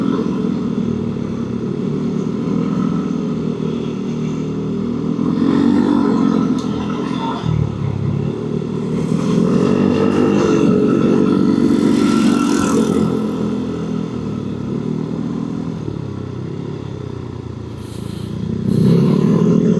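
Several motorcycles on a touring ride along a rural road in southern West Java, their engines humming and revving steadily close by, with brief speech mixed in over the running engines.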